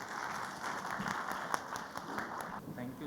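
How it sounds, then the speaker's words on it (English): An audience at a corporate tax conference gives a round of applause to welcome a speaker, with light clapping running for a few seconds under a voice. "Can we have him with big round of applause"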